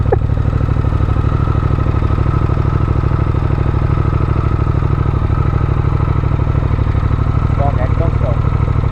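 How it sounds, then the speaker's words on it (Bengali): A Triumph Speed Twin 1200 twin-cylinder motorcycle idles loudly and steadily close by, a smooth even thrum with a brief rev near the end, while people talk over it. "টুইন সিলিন্ডার, কি সুন্দর স্মুথ আওয়াজ বেরোচ্ছে"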